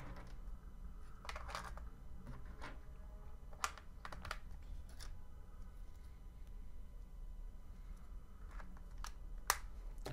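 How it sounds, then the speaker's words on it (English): Faint plastic clicks and small taps while batteries are fitted into a Porodo wireless keyboard, scattered irregularly over a quiet background. "We install the batteries."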